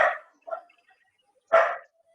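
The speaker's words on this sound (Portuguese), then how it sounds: "onde o cachorrinho está latindo, coloca no mute" A small dog barks three times from a short distance, two quick yips close together and then a louder single bark after a pause, with quiet in between.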